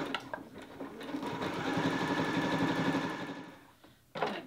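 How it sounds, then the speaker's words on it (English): A sewing machine stitches a coiled rope bowl, a quiet rapid mechanical whirring that builds, runs steadily for a few seconds, then slows and stops, followed by a brief clunk. "I just backed up about an inch and gonna sew straight over what I just did."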